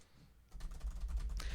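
Computer keyboard keys tapped in a quick, fairly faint burst of typing, close by and with no voices over it.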